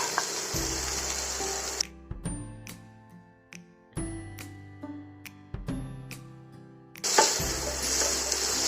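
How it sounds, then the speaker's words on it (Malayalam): Moringa drumstick pieces being stirred in a hot pan while making drumstick soup. A sizzling hiss rises at the start and again at the end, with steady musical tones filling the quieter stretch between. "ഇനി മുരിങ്ങാക്കായ കൂടിയിട്ട് ഇളക്കിയെടുക്കാം."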